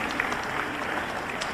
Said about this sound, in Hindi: तालियां उल्टे हाथ की तरफ कैसे बज रही है, सीधे हाथ नहीं